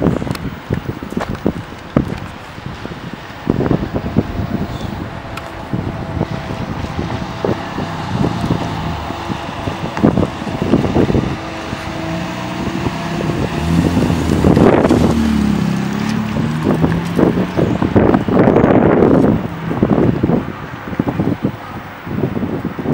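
A Ferrari 612 approaching and driving past, a rising engine roar that swells to a peak mid-way with a second surge later, amid wind noise and scattered clicks and knocks outdoors.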